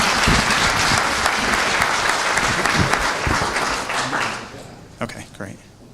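Audience at a multiple sclerosis discussion meeting breaks into a sustained round of applause, dense clapping that swells and then thins out toward the end, with some murmuring voices underneath.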